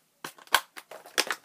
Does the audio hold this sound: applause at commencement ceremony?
no